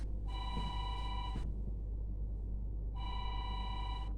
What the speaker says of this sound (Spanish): Hay un celular sonando